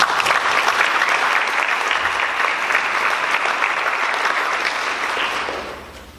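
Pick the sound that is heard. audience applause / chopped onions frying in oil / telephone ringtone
audience applause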